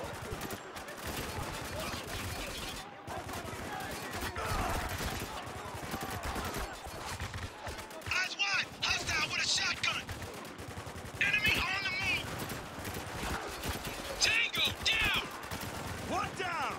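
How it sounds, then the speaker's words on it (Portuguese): Rapid bursts of gunfire and machine-gun fire in the video game Spec Ops: The Line, played on PC, come in repeated volleys over game music and effects while someone talks over the action. "Tô dando tiro letal nele."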